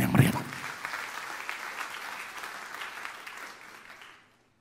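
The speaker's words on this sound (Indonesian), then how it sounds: "Tepuk tangan yang meriah." A congregation applauds in church during a Christmas Eve service, a broad wash of clapping that follows a brief knock and then slowly fades away over several seconds.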